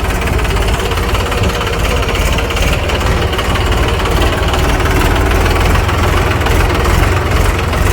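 A tractor engine running close by during a coriander harvest, a loud, steady, rumbling chug that continues without pause.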